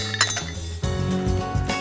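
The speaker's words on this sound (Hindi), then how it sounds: "तो मैं इसमें डालूंगी ये बादाम" A few almonds clatter and clink into a metal mixer grinder jar, quick close rattles followed by a brief settling rumble.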